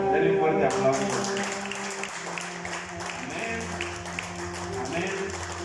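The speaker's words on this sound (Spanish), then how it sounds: "Denle un fuerte aplauso." A church congregation applauds together, a broad, steady clapping wash lasting several seconds, with a sustained musical tone and room murmur underneath.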